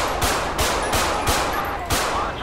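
Gunfire in the video game GTA during a police shootout: five sharp, loud shots spaced at roughly even intervals, each a broadband crack with a brief tail, over a steady background rumble.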